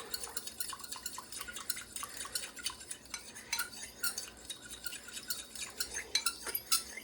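A spoon stirs pudding mixture around a bowl, making quick, repeated scraping clicks and light clinks in a busy, uneven rhythm, close and moderately quiet.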